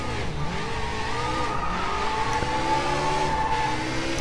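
A car drifting in Sleeping Dogs: Definitive Edition, its engine revving hard with a sustained tire squeal sliding up and down in pitch, continuous and close.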